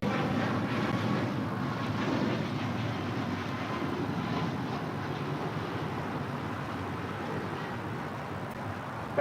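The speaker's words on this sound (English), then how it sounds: "That was Alaska Airlines flight 1147 heading to Seattle, Washington in the 737 MAX 9." An Alaska Airlines Boeing 737 MAX 9 jet at Los Angeles International Airport gives a steady, continuous engine roar that holds an even loudness throughout and has no talking over it.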